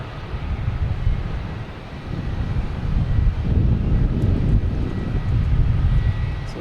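A Lufthansa Boeing 747 jet at Boston Logan Airport produces a low, broad engine rumble that swells gradually, distant but steady, mixed with some wind noise.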